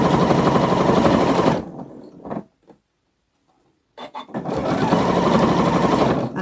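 Sewing machine stitching fabric for a Gemini sewing pattern, running in a steady rapid chatter, stopping for a couple of seconds of near silence with a few faint clicks, then starting up again loud and close.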